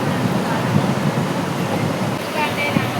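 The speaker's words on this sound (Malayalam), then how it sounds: "നല്ല കാറ്റ് കിട്ടുന്നു അല്ലേ, നല്ല കാറ്റ് കിട്ടുന്നില്ലേ" Strong wind buffets and roars in a constant broad rush, loud and close, with people talking underneath.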